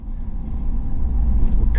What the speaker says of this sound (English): And I'm just gonna let the truck roll down.